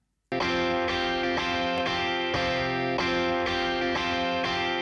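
A recorded electric guitar played back in Cubase for a distortion demonstration, heard dry: rich sustained chords struck about nine times in a loose, repeating rhythm, loud and clear with no voices.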